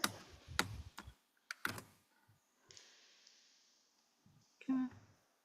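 Keys on a stuck computer keyboard are pressed in a few sharp, loud clacks, then scattered fainter taps and soft clicks, with pauses in between, close to the mic and without speech.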